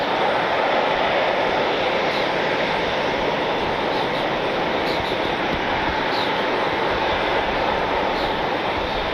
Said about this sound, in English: Neat aircraft, reminds me a lot of the Pixar Pier livery.